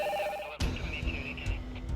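A telephone ringing, a short bright electronic trill that stops abruptly and gives way to faint room noise and low rumble.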